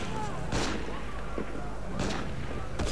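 Gunfire in the Assassin's Creed Unity video game: three sharp, booming shots at roughly even intervals over a low rumbling background.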